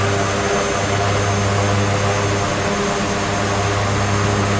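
Twin Otter turboprop engines run at takeoff power, a loud, constant droning roar with steady propeller hum and no breaks or voices.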